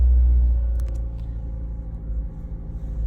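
Engine of a 2010 Mk2 Ford Focus cranking and catching via an aftermarket push-button starter, heard as a loud low rumble that settles into a steady idle, with a few brief clicks near the start.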